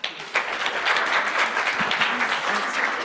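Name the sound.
audience applause for panel speakers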